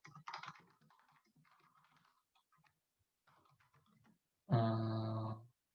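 Code being typed on a computer keyboard comes through as soft, scattered key clicks in short bursts with pauses, quiet and close, ending with a brief loud tonal burst.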